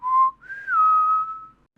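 A person whistles in imitation of the Pombero, a South American folklore creature: two clear, close notes, a short steady one followed by a longer, higher tone that slides gently downward, in a silent room.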